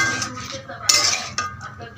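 A lid set down on a cooking pan of jackfruit and prawns just after spice-rinsing water goes in, giving a short metallic clink with a brief rattle near the middle, with some kitchen clatter around it.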